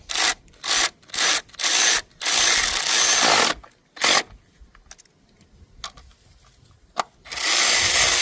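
Ratchet tightening spark plugs on a 2018 Hyundai Elantra, heard as a series of short, close bursts of rapid clicking. A longer run of ratcheting follows, then a quiet stretch with scattered light taps before a final burst.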